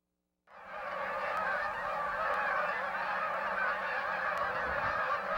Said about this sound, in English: the migration of Canada geese from warmer climates